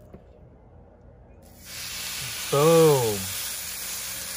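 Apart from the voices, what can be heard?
snakehead fish sizzling in a hot pan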